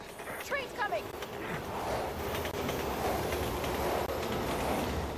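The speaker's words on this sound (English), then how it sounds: "Oh god, train's coming." A train approaches in the sewer level of the video game Resident Evil 6, a rising rumble with rhythmic clatter and a faint squeal underneath. Someone talks excitedly over it.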